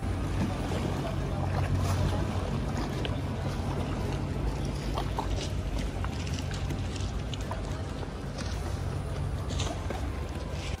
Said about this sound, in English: Just listen to the sound of the Venetian water.